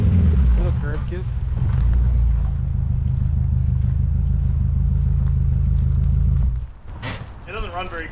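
An LS-VTEC swapped Honda EG Civic engine running rough: a loud, uneven low rumble held for about six seconds before it drops away. Voices follow.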